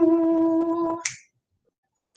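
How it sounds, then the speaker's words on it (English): Steady snaps keep time under a sung response, then stop, leaving a short silence and a faint sound at the end. "Can you please keep the beat with your snaps"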